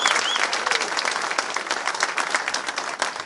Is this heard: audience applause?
yes